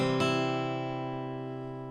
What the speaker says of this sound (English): Now C should sound a bit like this.